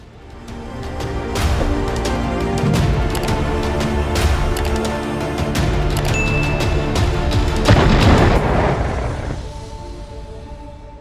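Wartime explosions near Kindrativka as Russian aircraft bomb Ukrainian positions: a loud, continuous rumbling barrage with sharp cracks scattered throughout, then a heavier blast near the end that fades out.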